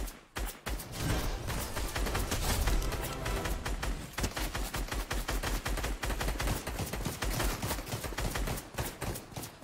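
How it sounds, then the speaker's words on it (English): Dense, rapid gunfire from a shooter video game, sharp overlapping shots and bursts crackling continuously and loudly with no talk. "There's a whole bunch of shooting up there."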